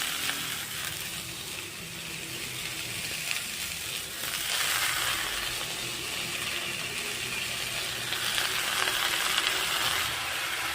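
Leafy greens (saag) frying with onion in a pan for Odia saag badi bhaja, giving a steady, dense sizzle that swells slightly midway and holds close and loud throughout, with no talking.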